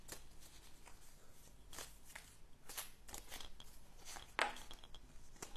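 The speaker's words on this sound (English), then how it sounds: "let's shuffle the card" A deck of tarot cards being shuffled by hand, with soft repeated riffling and flicking bursts at an uneven rhythm, close and fairly quiet, with one sharper snap near the end.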